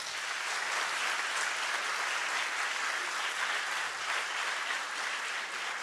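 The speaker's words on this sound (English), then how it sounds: "Can we have a round of applause for them?" Sustained, even applause from a large audience at a Foundation Day cultural programme greets a dance performance, continuous and evenly dense throughout without speech.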